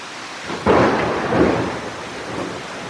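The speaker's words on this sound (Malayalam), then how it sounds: "അങ്ങനെ മഴയൊക്കെ ഇതാ ഇങ്ങനെ സൈഡിൽ പെയ്തുകൊണ്ടിരിക്കുകയാണ്." Thunder cracks and then rumbles close by over steady falling rain, one loud burst fading into a long roll while the rain keeps hissing, with no voices.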